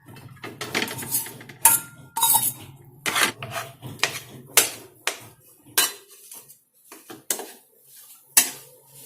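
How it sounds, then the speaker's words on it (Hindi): Mawa being stirred and roasted in a kadhai while making sesame barfi: a spoon scrapes and clinks against the metal pan in irregular strokes, close and fairly loud, with a faint sizzle between them. "मावा को भी आपको ना चलाते रहना है ताकि ये कढ़ाई पे चिपके नहीं।"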